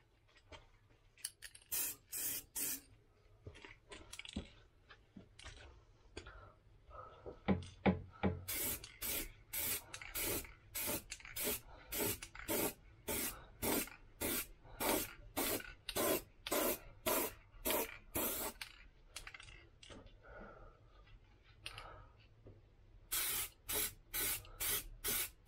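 Bursts of a paint spray gun lay a very light dust coat onto a Toyota MR2 rear wheel arch repair, coming as a long run of short, evenly spaced hissing passes with brief gaps between, close and clear.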